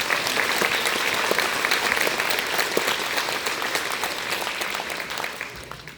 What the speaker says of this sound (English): Big round of applause for our section winners